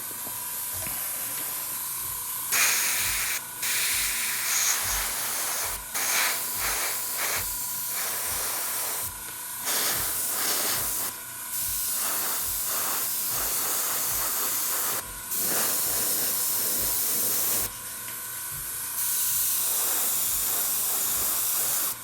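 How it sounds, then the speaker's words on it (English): An airbrush sprays white paint over a scale model Brummbar tank, a close steady hiss that starts and stops in bursts of a few seconds each, with faint pauses between passes and no speech. "let's give it a little airbrush, and I'll do mine in white this time"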